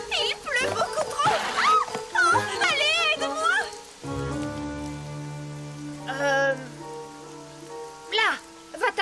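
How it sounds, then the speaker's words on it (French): Heavy cartoon rain pours steadily as animated characters talk and exclaim over it, with the downpour hissing beneath their voices and occasional musical tones. "Oh, ah, oh, il pleut beaucoup trop!"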